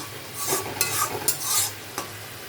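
Katla fish pieces go into hot oil in a pan, giving bright sizzling bursts mixed with stirring scrapes and a few taps, close and with no talk.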